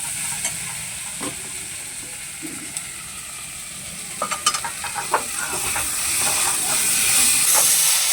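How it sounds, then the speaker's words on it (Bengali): Tomato sizzles and steams with spices in a frying pan while being stirred, a steady bright hiss with occasional utensil clicks and pops, no talking. "মশলার সঙ্গে টমেটোটাকে আমি ভেজে নিয়েছি।"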